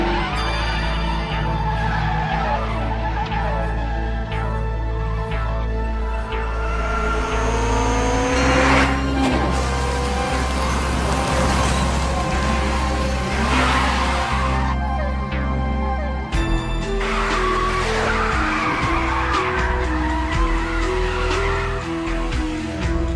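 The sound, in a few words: Mazda RX-7 FD race car engine and tires skidding, anime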